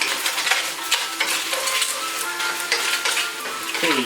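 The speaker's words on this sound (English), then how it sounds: "Okay, so we're gonna saute these." Shrimp seasoned with cayenne sizzle steadily as they are sautéed in a hot pan, giving a close, continuous frying crackle with faint stirring. No one speaks.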